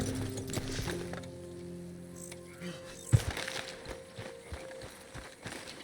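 Soft, uneven hoofbeats of a horse walking and slowing in Red Dead Redemption 2, fairly quiet, with scattered clops and one sharper knock partway through.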